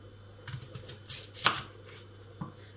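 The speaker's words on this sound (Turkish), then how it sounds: "Tabii küçük küçük doğrayacağım." A knife chops an onion against a board in a few quick, uneven taps, one louder cut near the middle, fairly close and with no talking.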